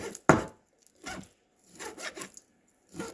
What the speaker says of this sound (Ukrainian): Тому ми покришимо дрібненько філе куриці ножиком.